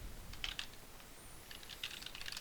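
Fingers type on a computer keyboard in two quick bursts of soft, close clicks with a short pause between them. The sound is faint and there is no talking.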